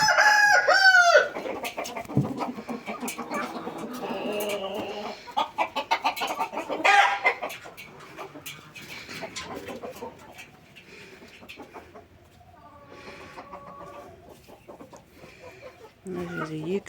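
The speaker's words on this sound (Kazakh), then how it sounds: "Осындай әдемі тауықтарымыз бар." Backyard hens in a coop where eggs are being collected cluck and squawk loudly and nearby, with rooster crowing bursts among them and a brief voice or two mixed in.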